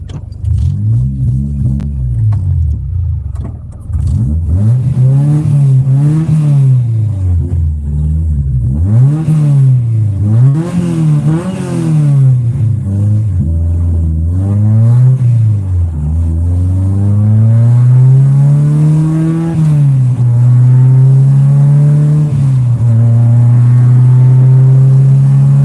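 A Honda K24A2 engine in a hatchback being tuned with KTuner, revving loud and close in repeated rising and falling pulls before settling into a sustained higher drone.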